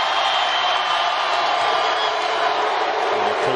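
A basketball arena crowd at a Nicholls State vs Texas Tech college game roars with sustained, steady cheering and whooping that fills the whole stretch, loud and broad without a break.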